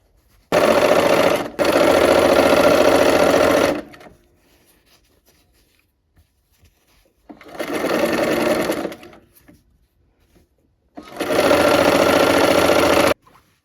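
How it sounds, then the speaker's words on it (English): A sewing machine stitches rows of a quilt block together in three loud, steady bursts, each a few seconds long, separated by quiet pauses while the fabric is repositioned. "now we're gonna sew these rows together here"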